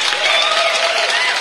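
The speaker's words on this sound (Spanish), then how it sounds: "Aplauso, aplauso, aplauso, aplauso" A live audience claps and cheers at a Grupo Ju Juy dance event at La Rakona in Puebla, a dense steady wash of applause with crowd noise throughout.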